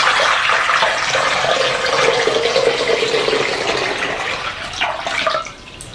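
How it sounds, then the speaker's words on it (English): Old water from a hydroponic variegated peace lily pours steadily and loudly into an IKEA bowl, a continuous close splashing gush that tapers off near the end, with no voices. "I'm just going to pour the old water"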